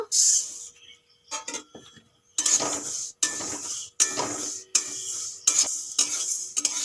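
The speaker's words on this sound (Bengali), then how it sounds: "মুগ ডালটা প্রথমে শুকনো কড়াইতে ভেজে নেব" Dry mung dal being stirred in a dry metal wok, repeated gritty scraping strokes in bursts with short pauses between, close and clear.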